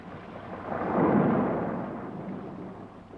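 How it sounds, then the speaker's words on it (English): Thunder in a mountain-town storm rolls in, swells to a deep rumbling peak, then slowly fades, with a faint rain-like hiss underneath. "The storm, she is passing."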